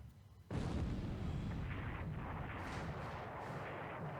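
Heavy cruiser gunfire in a WWII strategy video game: a sudden loud booming blast opens the clip, followed by a sustained rumbling roar with further crackling bursts layered on top.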